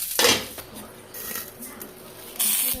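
A metal lid clanks down onto a tawa pan with fish paturi cooking over a low gas flame, giving a sharp clatter, then quieter clinks of cookware and a final loud metallic knock, close by and without talk.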